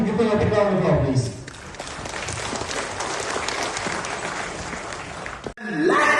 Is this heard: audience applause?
yes